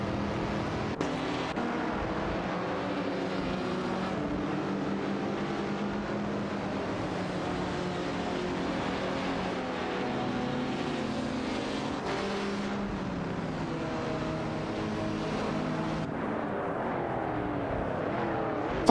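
Race cars in a racing video game, including a Ford Escort Mark I and a Lancia Stratos, a continuous engine whine rising and falling through gear changes as several cars drive together, with no voices.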